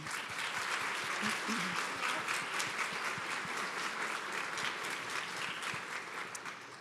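An audience at an occupational therapy recognition ceremony applauds, a sustained, moderately distant wash of many hands clapping that carries on steadily and tapers slightly at the end.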